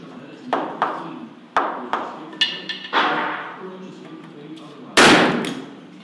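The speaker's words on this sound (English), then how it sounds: "Standard HILTI red shot for the cured concrete." A Hilti powder-actuated tool fires red shots through treated lumber into cured concrete flooring, giving a series of sharp close cracks and thuds with one louder blast near the end, while a voice talks between shots.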